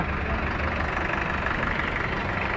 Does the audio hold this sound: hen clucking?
no